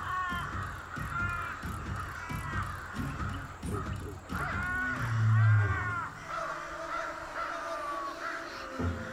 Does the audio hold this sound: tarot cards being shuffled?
no